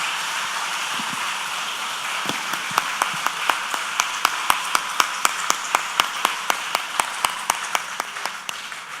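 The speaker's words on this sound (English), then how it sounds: "Please give her a round of applause." At a women's leadership and mentoring event, a broad wash of clapping is heard, with one loud, close pair of hands striking a steady rhythm over the softer crowd applause for several seconds before it eases.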